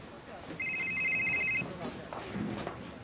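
A telephone rings once, a bright trilling electronic ring lasting about a second, close and clear, followed by someone speaking briefly.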